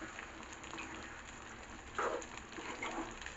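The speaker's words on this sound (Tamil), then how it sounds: "கிரேவி வந்து நல்லா கொதிய ஆரம்பிச்சிருச்சு" Chicken gravy comes to a boil in a pan, making a soft, steady bubbling hiss with small pops, faint and continuous, with no voices.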